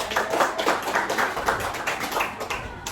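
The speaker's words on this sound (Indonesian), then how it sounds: "Ya, tepuk tangan semua teman-teman ini." Schoolchildren at an elementary school clap their hands together during a school outreach session, a steady patter of many small hands lasting throughout, fairly close and busy, with no talking over it.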